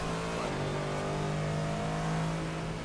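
Race car engine in a racing video game, a continuous, steady engine drone with sustained tonal harmonics at moderate level, holding throughout without pauses.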